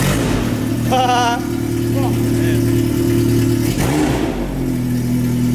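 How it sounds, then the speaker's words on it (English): A Toyota AE86 with a freshly fabricated exhaust idles loud and close, its steady low drone rising in brief revs, while several people talk over it. "You might have to rev it now if it kind of dips down the second you start out."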